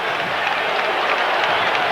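A stadium crowd roars and applauds steadily at a Raiders–Chiefs football game in Kansas City, a dense, loud wash of cheering that holds throughout.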